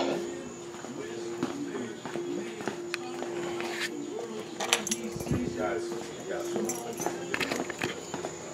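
Light metallic jingling of keys in short bursts, with soft footsteps and shuffling nearby over a steady background hum.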